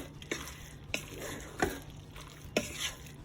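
Chunks of Velveeta stirred into hot macaroni in a Ninja Foodi pot, giving a few soft scraping strokes and wet squelches at an uneven pace, close and fairly quiet.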